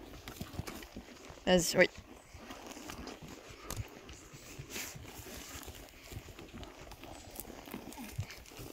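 Hooves of a pony on an outdoor trail ride, soft irregular clip-clop steps that are near but faint, with people talking intermittently over them.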